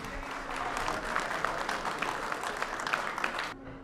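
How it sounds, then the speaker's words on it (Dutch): An audience at an outdoor farmyard festival claps steadily for a few seconds, a dense patter of hands that stops abruptly. "Geef ze een hartelijk applaus."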